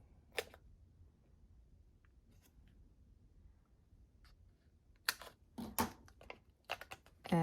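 Paper is cut into a strip for a handmade note card, heard as faint isolated snips early on and then a close, quick cluster of sharp cutting clicks near the end in a quiet room.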